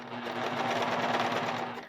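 A serger runs in one fast continuous whir, sewing around the armhole of a long sleeve, close and steady for under two seconds.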